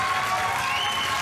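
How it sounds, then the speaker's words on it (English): An audience at a junior bodybuilding world championship keeps up a steady wash of applause and crowd noise, even in level throughout this short stretch. "A big round of applause, ladies and gentlemen,"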